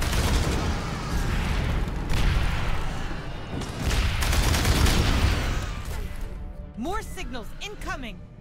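Sentry gun turrets in Aliens: Dark Descent keep up sustained automatic fire and booming impacts, with a dense, loud barrage that later thins into chirping, swooping electronic tones, while a voice talks over it.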